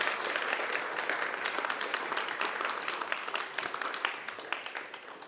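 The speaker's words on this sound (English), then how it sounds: "Let's give all of our panelists one big round of applause." Symposium attendees clap for the panelists in a fairly quiet but steady round of applause, individual claps growing more distinct as it thins out toward the end.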